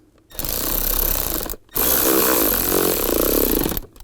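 Power tool buzzing as it tightens bolts during a blower motor resistor and harness replacement on a 2007-2013 Chevrolet Silverado, two loud close bursts of steady whirring separated by a brief pause.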